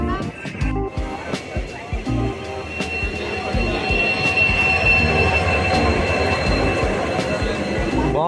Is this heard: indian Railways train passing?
yes